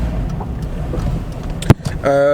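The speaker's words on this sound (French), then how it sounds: "on est dans la voiture, on vient de partir" A low engine and road rumble fills a car's cabin as it pulls away, with people talking inside and a brief harmonic tone rising near the end.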